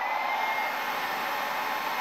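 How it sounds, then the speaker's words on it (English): A steady, loud blowing whir with a faint high whine, running evenly without pause, like a hair dryer on a constant setting. "Now we're going to just turn on the hairdryer"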